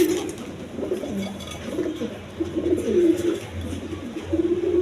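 A pair of Sirazi Lahori pigeons, a hen and a cock, coo softly in repeated low phrases at a farm, with faint rustling and background noise around them.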